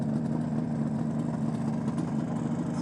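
Kawasaki H1A 500 Mach IV from 1971, a rebuilt three-cylinder two-stroke motorcycle, runs at a steady idle, close and fairly quiet, with an even low burble and no voices.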